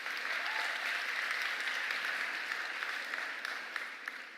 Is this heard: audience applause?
yes